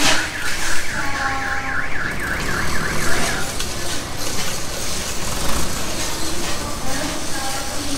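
Warbling sirens wail continuously from nearby vehicles in a busy parking area, loud and steady throughout, with rumbling engine and traffic noise underneath.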